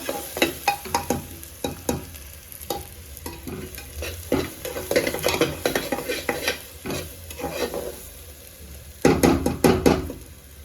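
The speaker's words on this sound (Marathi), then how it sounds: "आणि हे आता खोबरं आहे ना मी तेलामध्ये टाकते, जेणेकरून खूप छान असं हे येतं." Grated coconut frying in oil for a spicy mutton dish, a soft sizzle under frequent close scraping and clinking of a spoon stirring against the pan, with a brisk burst of stirring near the end.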